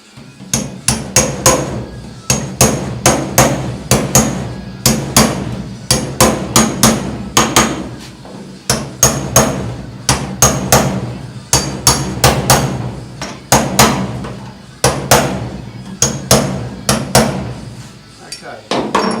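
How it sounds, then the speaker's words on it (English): Repeated sharp metallic hammer taps on the metal body of a Mk2 Ford Escort RS2000 under restoration, loud and close, falling in quick bursts with short pauses between them. "find my little hammer to just tap that up"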